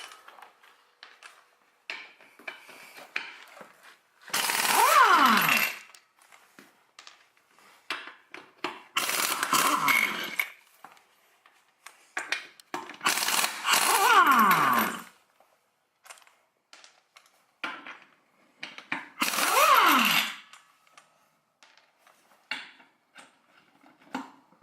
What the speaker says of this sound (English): So we have a 22 socket with our cobalt impact wrench.